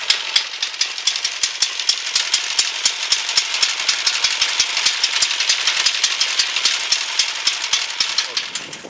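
A portable electric generator runs steadily at a rural ranch with no mains power, giving a continuous rattling engine drone with rapid regular ticking pulses throughout, fairly close and loud, with faint voices in the background.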